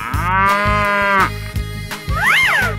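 A cartoon cow gives a long, loud harmonic moo up close, followed by a shorter rising-and-falling moo, all over a steady synthetic musical backing.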